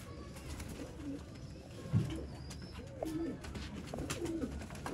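Red-eyed breeder pigeons coo softly nearby, several low, brief murmuring coos scattered among faint background noise.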